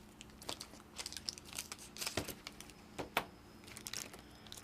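A package of Model Magic clay is handled and torn open, giving irregular crinkling and crunching plastic sounds with sharp snips and rustles, close by and quiet, with no talking.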